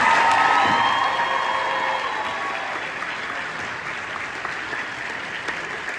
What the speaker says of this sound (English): can we have a round of applause for all of you guys?